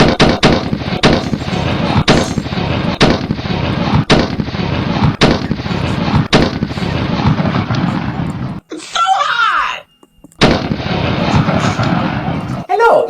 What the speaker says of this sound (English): He's shooting the Terminator.